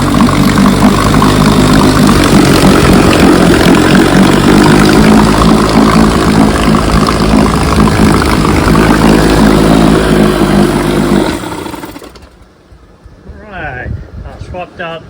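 A 1968 Evinrude 18 HP outboard motor with a swapped fuel pump runs loud and steady at close range, then cuts out abruptly, leaving a quieter tail with a voice speaking.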